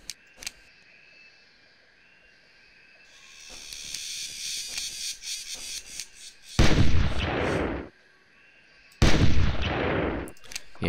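Shotgun blasts in the hunting video game Carnivores+ out on a great lake. Two loud, broad bursts ring out about two seconds apart, each sustained for a moment, over quieter game ambience with small clicks.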